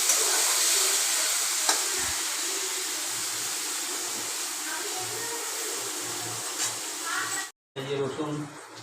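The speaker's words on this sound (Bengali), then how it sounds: "এখন শুকনো মাছগুলো ভাজা হবে, ডিপ ফ্রাই হবে।" Dried fish deep frying in hot oil, a steady broadband sizzle and crackle running throughout, loud and close, with brief pops and a short break near the end.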